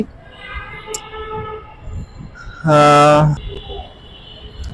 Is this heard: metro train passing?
yes